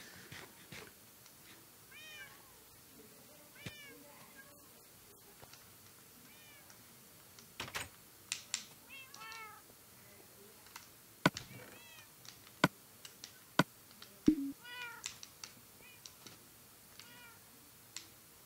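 Several cats in Minecraft meow repeatedly in short, rising calls, fairly quiet, with occasional sharp clicks and taps scattered through.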